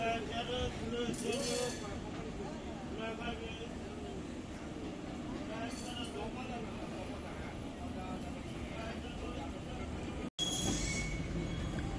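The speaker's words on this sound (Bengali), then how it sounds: "সেই কোচ আর সেই ট্রেনের রেকি কিন্তু এখন ঢুকছে হাওড়া স্টেশনে।" Train rake pulling into Howrah station, its wheels squealing in bursts of high-pitched screech over steady rumbling rail noise, with voices and station hubbub around it.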